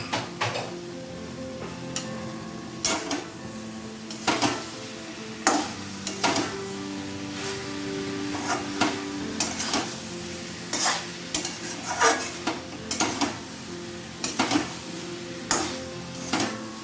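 Chopped onions sizzle and fry in a pan for sambar dal, with a steady hiss broken by frequent sharp scrapes and clinks of a spoon stirring against the metal, close and fairly quiet.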